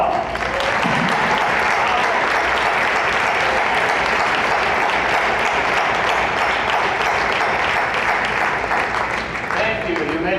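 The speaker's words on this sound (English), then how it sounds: "join me in giving your parents a round of applause." Sustained loud applause from a large crowd at a commencement ceremony, dense clapping that continues steadily from start to finish, with faint voices mixed in.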